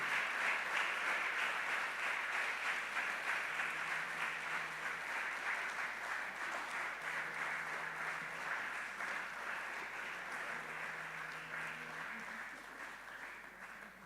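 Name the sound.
audience applause welcoming the Queen Mother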